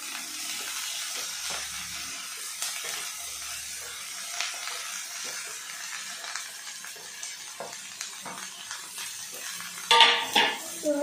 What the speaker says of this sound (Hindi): तो अब इनको सबको फ्राई करना है, इनको फ्राई करते रहना है।